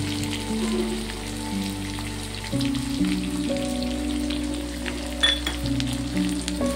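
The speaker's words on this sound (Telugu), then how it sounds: "బ్రౌన్ కలర్ వచ్చేలాగా ఆనియన్స్ ఫ్రై చేసుకుందాం" Onions and curry leaves fry in oil with a soft, continuous sizzle under a steady low hum, with a brief clink partway through and no talking.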